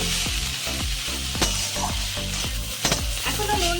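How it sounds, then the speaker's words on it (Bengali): Ground cumin, turmeric and red chili powder fry together in a pan, giving a steady loud sizzle broken by regular scraping stirs about every half second, with no talking. "সব কিছু একসঙ্গে ভেজে নেবো"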